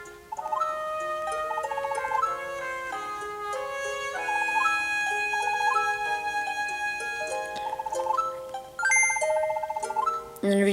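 Bright chime notifications from the Zelda: A Link Between Worlds video game, a map marker alert, ring out over layered melodic game music, with a fresh cluster of tones near the end.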